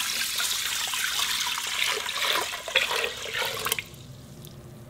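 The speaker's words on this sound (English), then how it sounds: "I'm going to add 8 parts water to it." Water is poured into an Instant Pot over white long-grain and wild rice, a steady splashing stream close by that stops abruptly near the end with no talking.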